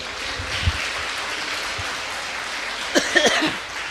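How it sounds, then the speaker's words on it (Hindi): Audience clapping at a Jain temple community gathering during a Mangal Pravachan by Praman Sagar Ji Maharaj: a steady, dense wash of applause lasting throughout, with a few louder voice bursts near the end. "ताली नहीं बज रही है, अच्छे से ताली बजाइए।"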